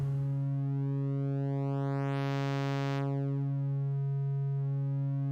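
An Expert Sleepers Disting 3 module waveshapes a synthesizer signal into a steady buzzy electronic drone whose upper harmonics sweep up, hold, then fall back away, continuous and even in level with no talking.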